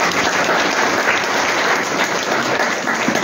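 Steady, dense applause from an audience at a Polish political party Q&A meeting in Mielec, sustained at an even level throughout without speech.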